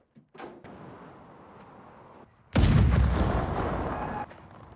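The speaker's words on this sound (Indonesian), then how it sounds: "Ada ledakan di atas bukit." A sudden loud blast bursts in after quieter rustling, rumbling on for a couple of seconds before fading to a low background.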